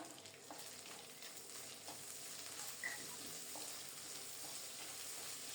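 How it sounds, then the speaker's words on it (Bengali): Dried ribbonfish (shutki) sizzles steadily in hot oil over low heat, with occasional stirring clinks, a continuous close, moderately faint frying hiss throughout. "তেল গরম হলে দিয়ে দিলাম। প্রথমে অল্প তাপে শুটকিগুলোকে খুব সুন্দর মতো ভেজে নেব।"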